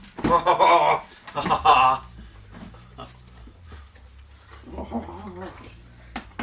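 A small dog pants and whimpers excitedly, with bursts of eager yips early on, while a person talks softly nearby.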